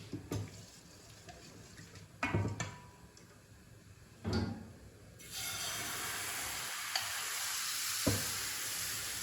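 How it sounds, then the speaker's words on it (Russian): A utensil scrapes and knocks against a pan in a few separate strokes while stirring rice flour batter, then steady sizzling frying takes over. "это тесто из рисовой муки нужно постоянно помешивать"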